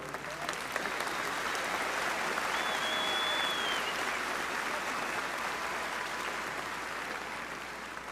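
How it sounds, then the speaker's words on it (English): Graduation audience at a high school ceremony applauds steadily for about eight seconds, a dense, even wash of many hands clapping that holds strong throughout, with a brief whistle partway through. "Please give these outstanding educators applause for their hard work"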